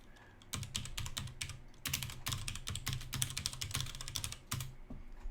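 Rapid keystrokes on a computer keyboard enter a command in an ARM assembly session, with dense bursts of clicking in two runs separated by a brief pause and no talking.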